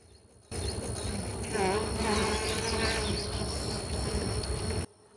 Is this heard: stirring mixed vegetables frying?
no